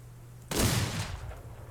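A single loud gunshot in the Outlaws of the Old West game, a sudden close blast after a quiet moment, then a decaying echoing tail.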